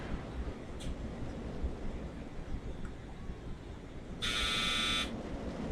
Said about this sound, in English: Oh, dryer's done.